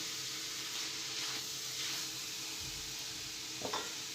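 Cabbage with a pinch of turmeric and other spices cooks in a pan: a soft, steady sizzle with faint stirring scrapes and a brief clatter near the end, all fairly quiet.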